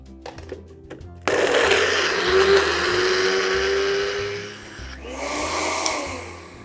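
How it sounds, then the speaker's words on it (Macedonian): Blender grinding pieces of fresh bread into crumbs, a loud steady whirring roar that starts abruptly after a second of quieter kitchen noise, then drops in pitch and level near the end. "Ставете ги во блендер."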